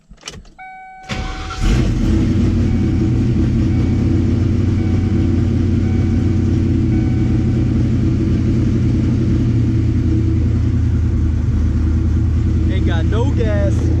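A Ford Mustang engine starts after a fuel pump replacement, with a brief crank and catch followed by a loud, steady, close idle rumble that continues throughout.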